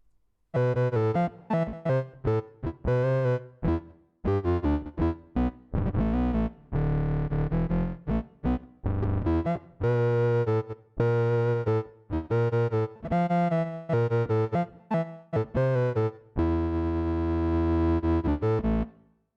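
A violin line run through a Line 6 Helix octave effect, turned into a thick, buzzy synth-bass tone with a low octave beneath, playing short choppy phrases and a few held notes, loud and close.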